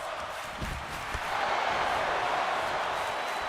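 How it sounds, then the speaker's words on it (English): Simulated arena crowd noise from the WWE 2K25 wrestling video game, a steady broadband roar that swells after the first second and holds loud, with a couple of low thumps early on. "Crowd chanting again."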